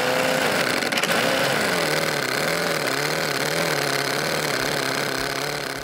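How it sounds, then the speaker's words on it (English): A small crankshaftless flower engine, the Ahiravata, runs steadily at a constant, buzzing mid-pitched drone, loud and close throughout with no pauses. "This is the Ahiravata engine, an engine without a crankshaft"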